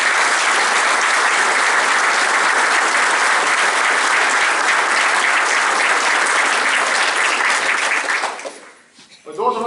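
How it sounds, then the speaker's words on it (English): Audience applause at a veterans' memorial ceremony for lost submarines in Groton, Connecticut, honoring the Submarine Force: loud, dense, sustained clapping for about eight seconds before dying away as speech resumes. "Please join me in a round of applause for the men and women of the Submarine Force"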